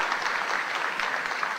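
Warm, steady applause from spectators at an international lawn bowls match, a short even burst of clapping heard at moderate distance with no talk over it.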